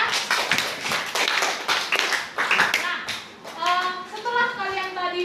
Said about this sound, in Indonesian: Oke, beri tepuk tangan untuk Anya.